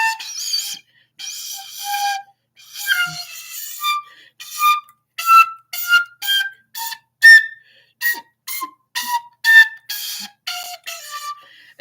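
A cheap composite and metal tin whistle plays shrilly, a choppy series of short, piercing notes, starting with a few longer tones, then rapid separate toots in an uneven rhythm.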